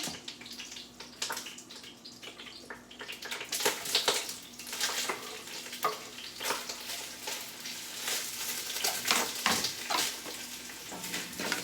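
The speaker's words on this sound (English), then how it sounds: "I hear my pan popping." Oxtails sizzle and pop in a hot pan on a home kitchen stove, a steady frying hiss broken by sharp crackles and louder spatters, close and continuous with no talking.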